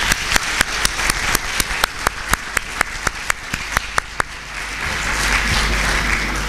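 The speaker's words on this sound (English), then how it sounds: "Round of applause, please." Rhythmic unison clapping from an audience after a talk on Pakistan's foreign policy, sharp evenly spaced claps repeating for about four seconds before dissolving into a looser, steadier wash of applause.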